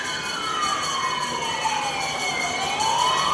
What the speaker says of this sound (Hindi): फायर ब्रिगेड की एम्बुलेंस आ रही है